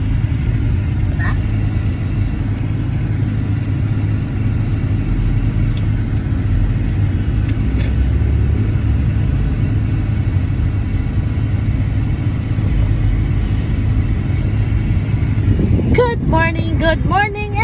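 A car drives along a road with a loud, steady rumble of engine and road noise throughout, and a voice joins near the end.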